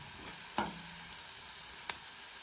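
Onion sautéing in a pan for shepu bhaji, a soft steady sizzle with a few sharp spatula scrapes, one louder stir near the start, heard alone at low level.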